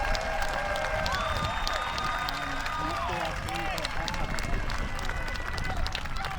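A wrestling crowd at a Warrior Wrestling stadium show cheers and claps in a steady, roaring wash, with commentators talking over it.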